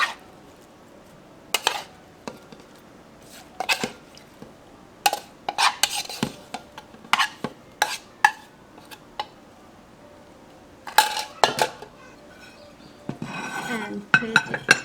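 Tofu larb salad being tossed and spooned into a serving bowl, with repeated clinks and scrapes of utensils against dishes in irregular bursts, fairly close, with no talking.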